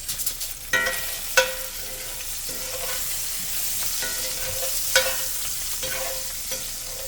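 Garlic and rosemary sizzling in a hot pan alongside a tomahawk ribeye steak, a constant bright crackling fry punctuated by several metallic clinks and scrapes of utensils, close up with no speech.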